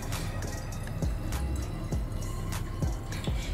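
Vodka is poured into a bottle of homemade amaretto, giving a quiet trickle of liquid broken by a few distinct drips and glugs, heard close and alone.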